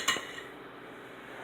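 Metal cupcake pans handled in a kitchen: one quick clanking knock at the start, then a short ringing decay into quiet room tone.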